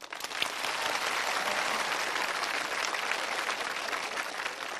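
Studio audience on a Chinese TV challenge show breaks into full, sustained applause, a thick wash of many hands clapping at constant loudness with no voices above it.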